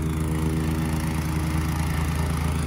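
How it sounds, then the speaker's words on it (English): A plate compactor vibrates over 2 cm porcelain pavers on a pool deck, a constant loud engine drone with a rapid low thumping pulse throughout, no voices. "We are in the process right now of compacting our 2cm"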